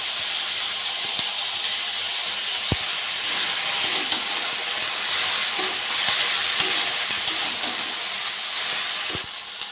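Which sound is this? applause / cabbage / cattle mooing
cabbage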